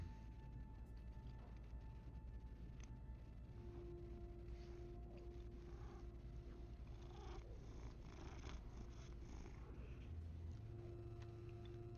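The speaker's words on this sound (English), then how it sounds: "I don't know if you just heard my cat or not, but he was up in my face purring." A cat purrs right up close, a steady low continuous rumble lasting throughout, faint against a humming background.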